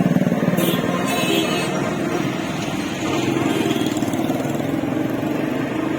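A Suzuki GD 110S motorcycle engine runs steadily throughout, a continuous buzzing drone with no pauses, close and fairly loud.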